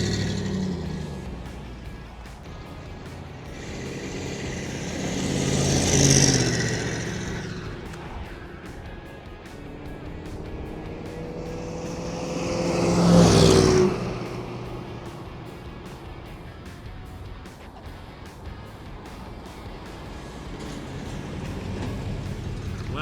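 A 1962 Chevrolet Corvette coasts past in a parking lot twice, each pass swelling to a moderate peak and fading, with a steady background hum between.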